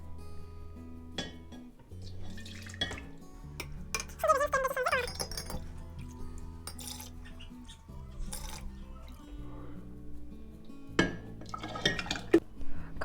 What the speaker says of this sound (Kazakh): Тез суы үшін мен осындай бөлек ыдысқа компотымызды құямын.